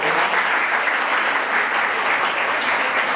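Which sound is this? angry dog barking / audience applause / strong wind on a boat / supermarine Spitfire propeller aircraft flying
audience applause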